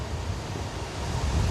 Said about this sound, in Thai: ลมเนาะมื้อนี้